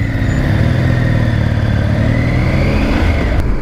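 Triumph Tiger 900 GT motorcycle engine running steadily and loud, with a droning, slightly rising tone throughout and no speech.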